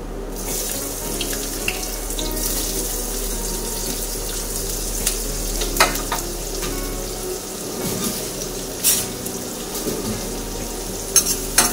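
Chopped onion sautés in oil with mustard seeds, cumin and hing. A steady, rushing sizzle runs throughout, with a few small clinks of a spatula now and then and no talk.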